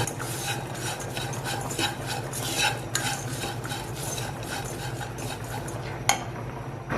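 Chilli and coriander powder sautéing in a pan for Kannur-style koottukari, with a continuous soft sizzle under steady scraping and rubbing of a spoon, plus a few sharper metallic clinks.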